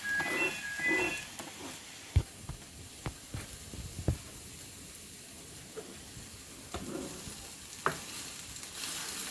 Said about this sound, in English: Just waiting for them to start sizzling. They already are.